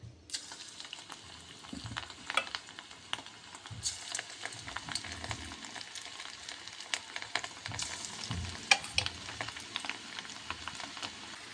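Cauliflower pakoda pieces frying in hot oil in a kadai, a steady bubbling sizzle with scattered crackles and occasional sharper pops from ladling or stirring, close and continuous throughout.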